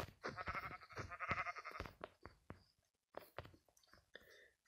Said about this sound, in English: Actually, there is a sheep. It's a baby sheep.